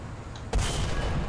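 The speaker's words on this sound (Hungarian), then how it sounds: "Mindjárt lövöm el, nyugi." A tank cannon fires in War Thunder, a single sudden heavy boom midway that leaves a lingering rumbling roar.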